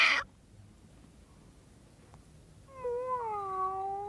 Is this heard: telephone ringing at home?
no